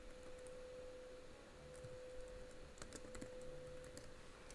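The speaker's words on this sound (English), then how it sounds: "Let me just type that name in." A name being typed on a computer keyboard: a quiet run of light key clicks over a steady hum, no talking.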